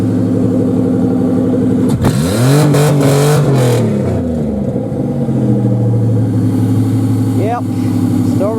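A 1997 Buick Century derby car engine revs loudly up and down while the car strains in gear, a rough, close, steady roar with rising and falling pitch and someone talking over it.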